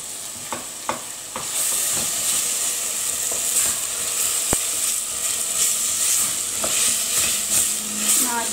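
Tomato paste hits a hot pan for a Tunisian dish, giving a continuous bright sizzle and frying hiss, with occasional stirring scrapes and clinks of a utensil against the pan.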